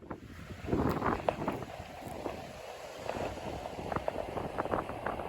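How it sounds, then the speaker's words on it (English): Strong wind buffets and roars outdoors in gusts, with thumping bursts against the microphone and a constant rushing background. "It is a very, very windy day today"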